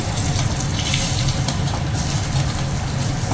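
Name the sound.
cut potatoes being added to the cooking pan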